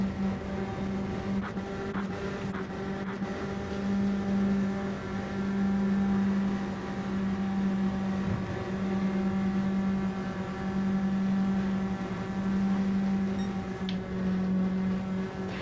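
IROC race car engines drone steadily in sixth gear at Daytona in a racing video game, a loud, sustained, even-pitched hum with little change and a couple of brief clicks.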